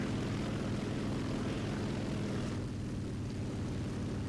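I-180S propeller fighter plane in War Thunder, a continuous loud engine drone with a throbbing propeller pulse that eases slightly partway through, no voices.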